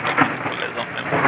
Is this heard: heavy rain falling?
yes